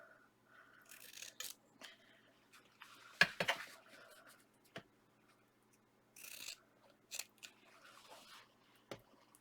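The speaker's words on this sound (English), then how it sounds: "I'm just going to cut about 1/4 of an inch away from that corner cut these at an angle" Scissors snip paper corners at an angle while making an Easter junk journal cover, a few quiet, close crisp cuts separated by pauses in a hushed room.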